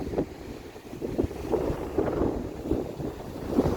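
Wind at a rocky seashore with choppy seas, buffeting the microphone in a steady, moderate rush, with surf breaking faintly underneath and no talking.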